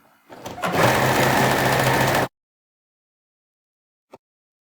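Sewing machine running a continuous fast stitch through a saw tooth quilt block for about two seconds, close and loud, then stopping abruptly into silence with one faint click afterward.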